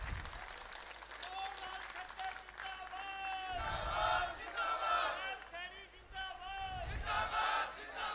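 A crowd at a BJP political rally applauds and cheers, steady clapping layered with shouts and whistles, while an amplified voice speaks over the noise.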